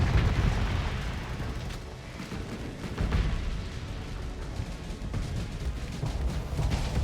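Missiles launching and exploding during a space fleet battle in a video game, a dense continuous rumble of blasts and booms with repeated bursts layered over one another, loud throughout and no talking.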